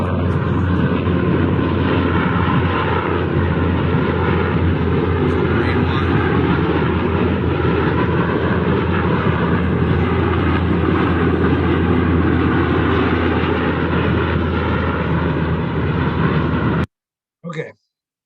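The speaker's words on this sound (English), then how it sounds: "We got 2 helicopters coming in." Loud, steady roar of two helicopters passing close overhead near the Lincoln Memorial in Washington, D.C., a dense broadband drone that cuts off abruptly near the end.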